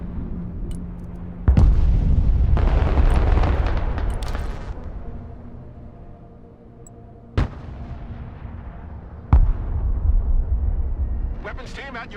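Mobile artillery fires in the video game Broken Arrow, with several sharp, loud booms spaced seconds apart and rumbling decay between them, while radio-style voices talk over the battle.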